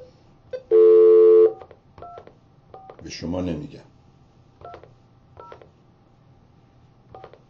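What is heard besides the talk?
telephone keypad dialing tones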